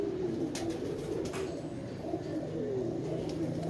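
Pigeons give low, rolling coos, a few calls close together under steady background noise.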